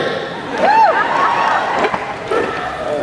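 A large crowd at a San Francisco political fundraising event cheers and whistles in a continuous, roomy roar, fairly loud and sustained over the whole stretch.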